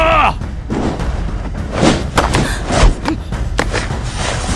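A heavy punch impact effect lands in a fantasy martial-arts drama, a loud thud and booming hits over a few seconds, with dramatic voices around them.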